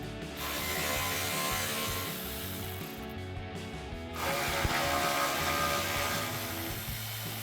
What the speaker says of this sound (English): We're going to use our 10mm socket to remove those.